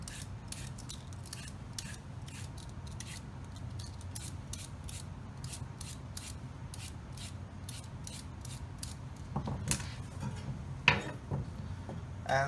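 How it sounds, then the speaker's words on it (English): A carrot peeled for tempura vegetables: repeated quick scraping strokes in a steady rhythm, close and moderately loud, with a few heavier knocks near the end and no talking. "with the carrot, same principle, peel the skin"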